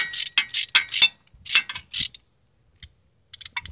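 Ratchet working on a tight bolt on a Mk4 CV axle with an automatic transmission: bursts of quick metallic clicking, close and fairly loud, with pauses between strokes and a few short clicks near the end.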